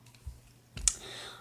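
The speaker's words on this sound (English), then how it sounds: "I'm going to actually go ahead and cut my other nails" Fingernails cut with clippers: two or three sharp, quiet snips, the clearest near the end, with soft rustling between them and no talk.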